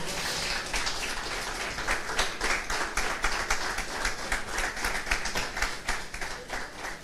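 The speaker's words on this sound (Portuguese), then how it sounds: "Vamos aplaudir o Senhor." A church congregation applauds during a worship service, fairly faint, dense clapping with a rhythmic pulse that carries on steadily throughout, with no talking over it.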